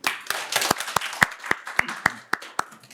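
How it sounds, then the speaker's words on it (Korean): A forum audience at a Korean display-industry panel discussion claps to welcome a speaker, with sharp, loud, separate claps standing out over a looser patter of hands and a few strong claps falling at a steady beat near the end. "큰 박수 부탁드립니다."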